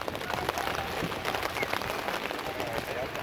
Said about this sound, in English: Actually, right now we're hiding out because it's pouring rain.